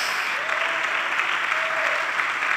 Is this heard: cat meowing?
no